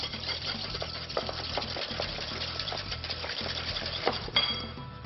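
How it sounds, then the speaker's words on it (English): Egg yolks being whisked briskly in a bowl, with steady clinking of metal against the bowl over a low rhythmic hum of kitchen background noise. "Now give that a really nice whisk"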